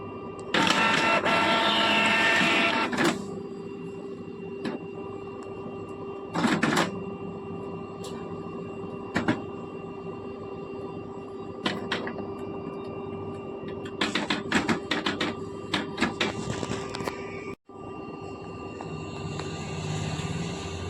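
A Canon printer starts up after a reset using its stop button, giving a loud opening burst of motor whirring followed by intermittent mechanical clicks, whirs and rattling bursts, a brief silent gap, then renewed running noise.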